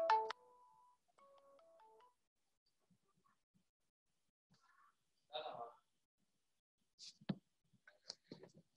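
A phone ringtone plays a short stepped electronic melody of clear tones near the start, followed by scattered faint clicks, a brief burst of speech-like sound and a few sharp knocks.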